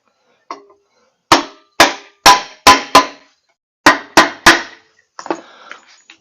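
Sharp metallic hammer strikes on the oil pan ears of a Briggs & Stratton V-twin engine, eight loud close blows in two quick groups, followed by a brief rattling scrape.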